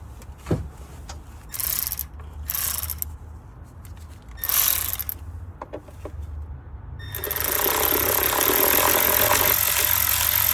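Cordless Milwaukee power tool driving valve cover bolts on a Hyundai 2.7L V6 Santa Fe, heard as several short whirring bursts separated by pauses, then a longer sustained buzzing run, loud and close.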